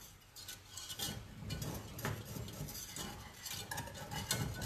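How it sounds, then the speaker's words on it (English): Croque madame sauce whisked in a pan, a continuous close scraping and clinking of the whisk against metal, steady and moderately loud with no voices. "Let's go back to whisking for a sec."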